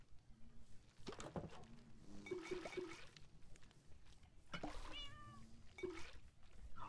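Cats meow several times in the Minecraft video game. The meows are faint and rise over quiet game background sound, with no talk in between.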